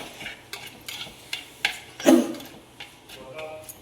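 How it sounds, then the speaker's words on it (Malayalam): Onions sauté with salt in a pan for a Malabar fish curry: light sizzling under repeated scraping stirs and soft utensil taps against the pan, close and moderately quiet. "ഉപ്പിട്ട് കഴിയുമ്പോൾ ഈ ഉള്ളിയൊക്കെ പെട്ടെന്ന് നമുക്ക് വഴന്ന് കിട്ടും"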